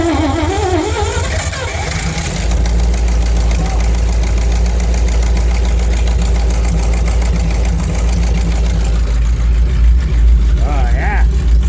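A Cockshutt 555 tractor engine on a cold November start turns over and settles into a loud, steady, knocking idle up close, with voices talking over parts of it.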